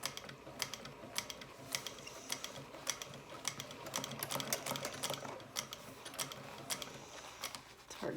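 A sewing machine stitches piping onto a vinyl handbag beside the strap connectors, quiet irregular bursts of clicking and rattling with short stops and restarts throughout, no voices.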